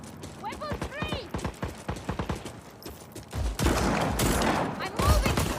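Gunfire crackles in a video game firefight, with scattered shots at first and then a dense, loud burst of rapid fire near the end, alongside shouted voices.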